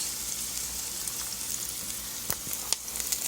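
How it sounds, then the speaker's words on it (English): Cabbage sautéing in a pan for a meal of red beans and chapati gives a steady, close hiss of frying with a few sharp crackles and pops and faint stirring clicks, with no talking. "So I'll just fry some cabbage, then onions."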